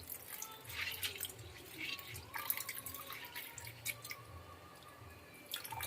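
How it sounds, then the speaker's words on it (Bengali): Coarse sago grains are rubbed and rinsed by hand in water, making quiet, uneven splashing and dripping sounds close by. "ভালো করে কচলে ধুয়ে নিতে হবে যাতে সাবুর মধ্যে যে নোংরাটা আছে ওটা বেরিয়ে যায়"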